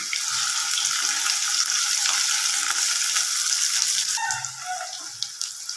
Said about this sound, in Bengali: হালকা করে ভেজে নিব পেঁয়াজগুলো